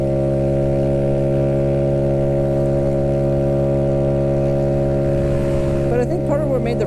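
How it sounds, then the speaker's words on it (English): A small 49cc Honda Ruckus scooter engine idles close by with a steady, low, throbbing intake and exhaust gurgle, and a voice begins speaking near the end. "You get that intake gurgle. You also get some exhaust gurgle."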